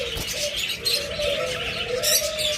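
Pigeons on a breeding farm coo softly and repeatedly, close by, with faint chirps and background bird chatter.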